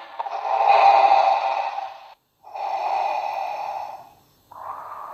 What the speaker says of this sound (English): Okay, so I have a breathing background loop.